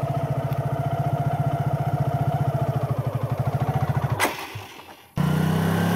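A learner rider's motorcycle engine chugs in a close, even pulsing beat as throttle is applied, then sputters and dies briefly before roaring back up to a steady, louder hum.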